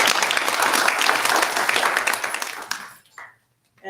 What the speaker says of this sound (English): Again, let's give them a cheer